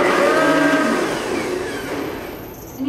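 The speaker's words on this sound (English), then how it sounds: "and then we're going to blend this" A blender whirs loudly through a lemon juice mixture for a healthy recipe at a cooking class, a steady grinding drone with a shifting pitch that eases slightly toward the end.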